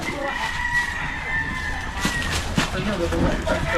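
Chickens cluck and a rooster crows amid an outdoor scene, with people talking nearby over the birds.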